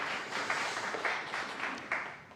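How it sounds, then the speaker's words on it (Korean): Applause at a Korean Presbyterian church retirement and ordination ceremony: a steady, moderately loud wash of clapping from the congregation that swells slightly in places over about two seconds. "박수로 축하합니다"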